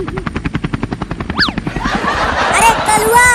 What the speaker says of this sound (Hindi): हेलीकॉप्टर को चालू कर दिया है